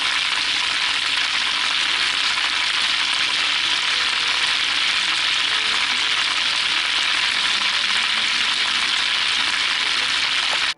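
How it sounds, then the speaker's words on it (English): Butter browning in a pan for an apple cake icing, giving a loud, continuous close-up sizzle and crackle that stays even throughout with no speech. "I like this sizzling noise."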